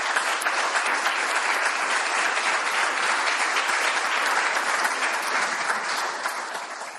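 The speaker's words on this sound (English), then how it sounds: "give a big round of applause to David Keplinger" A big round of audience applause for poet David Keplinger at a university Rilke Prize event, dense sustained clapping from a full room that begins to fade near the end.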